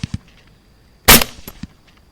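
A single loud, sharp rifle shot fired at a hog outdoors, a sudden close crack with a brief ringing tail, surrounded by quiet with a few faint clicks before and after.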